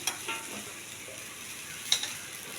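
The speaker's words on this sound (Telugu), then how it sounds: "పుదీనా, కొత్తిమీర కొంచెం బాగా వేగాలండి, పచ్చివాసన పోయేంత వరకు." Mint and coriander sizzle steadily in a pan, a soft continuous frying hiss broken by a couple of light stirring scrapes near the start and toward the end.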